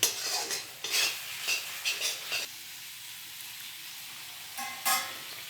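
Spice paste (masala) for a desi chicken red curry, not yet mixed with tomato and garlic, is stirred and fried in a pan. A spatula scrapes in several quick bursts over a soft sizzle, then pauses before two more strokes.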